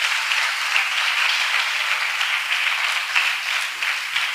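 A church congregation applauds together at a Spanish-language worship service, a dense, steady wash of clapping heard close and fairly loud for the whole stretch.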